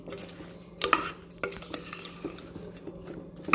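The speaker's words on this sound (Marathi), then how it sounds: "छान परतून परतून घेतले मी" Onion sautés in a pan while a spoon stirs it, with repeated metallic scrapes and clinks against the pan over a faint sizzle.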